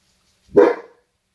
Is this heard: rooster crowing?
no